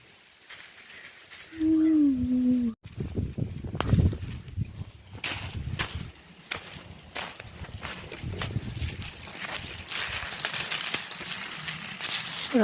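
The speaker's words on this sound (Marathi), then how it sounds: "असे दाणे वाजतात असे अगदी घुंगरासारखे वाटतात" Dry, brittle rattling and crinkling comes in scattered bursts as dry chickpea seeds shake in their papery pods during harvest, with a brief whistle-like tone near the start.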